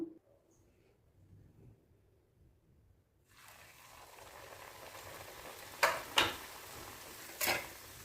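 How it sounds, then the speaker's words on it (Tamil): Pieces of a crunchy evening snack drop into hot oil and deep-fry. After about three seconds of near silence, a steady close sizzle begins, broken by a few sharp pops and clinks. "இப்போ இதை நம்ம பொறிச்சு எடுத்துடலாம் எண்ணெயில் டீப் ஃப்ரை பண்ணிக்கலாம்"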